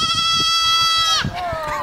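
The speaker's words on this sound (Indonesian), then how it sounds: "Goat." A goat bleats loudly and close by, a sustained wavering cry that breaks off briefly and then resumes more faintly.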